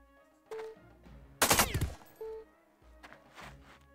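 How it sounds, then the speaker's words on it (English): Gunfire from the video game Jagged Alliance 2, a dense burst of rapid shots in the middle with a few smaller game sound effects before and after, no talk. "Maybe Igor can shoot him."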